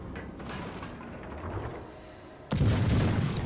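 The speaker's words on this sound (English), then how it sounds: "Fire some shells over" Königsberg cruiser in World of Warships Legends fires a salvo of shells: a sudden loud booming burst hits about two-thirds through, following quieter game rumble and faint ambient battle noise.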